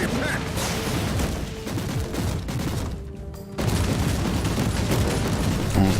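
Gunfire hitting an anti-air gun in Warhammer 40,000: Inquisitor - Martyr: a continuous roaring barrage of crackling shots and impacts, briefly thinning out before surging back louder and dense.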